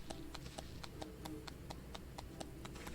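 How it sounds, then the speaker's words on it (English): Biggs clapping his hands above his head in a Final Fantasy XIV cutscene: a steady run of about a dozen light, evenly spaced claps, soft and slightly distant, over a low background hum with no talking. "Biggs applauds above his head."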